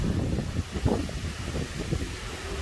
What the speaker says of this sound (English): Sounds like 50, 40 mile an hour winds out here.